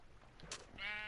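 A white sheep in Minecraft gives a short, faint bleat near the end, after a brief tonal blip, with a quiet background.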